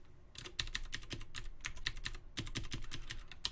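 Rapid, uneven clicking of keys on a computer keyboard, close and fairly quiet, in short bursts with brief pauses during NES programming work, with no talking.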